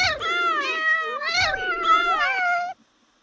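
A cat's meow used as the effect for a paw-print cursor click, with two drawn-out, loud, wavering meows in quick succession, heard alone and then cut off into silence.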